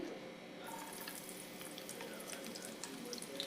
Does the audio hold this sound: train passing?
no